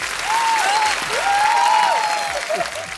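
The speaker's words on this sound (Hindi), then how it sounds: "जिनको बात अच्छी लगी जोरदार तालियां।" A studio audience at a comedy show breaks into loud, sustained applause for about three seconds, with a few cheers or whistles riding on top.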